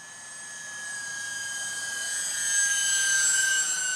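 An E-Flite Aero Commander micro RC plane makes a low pass, its thin high electric whine holding steady and swelling slightly louder as it nears, with no talk.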